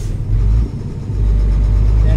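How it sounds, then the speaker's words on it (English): A truck engine rumbles low and steady in Euro Truck Simulator 2 on a ProMods map in Italy, a close diesel drone with a brief dip before resuming, with a voice talking over it. "Hear the truck okay?"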